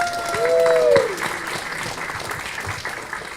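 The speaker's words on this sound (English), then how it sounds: "How about a big round of applause?" A meetup audience at Stevens in Hoboken applauds a tech speaker. The clapping is steady and broad, with a brief high whistling tone near the start.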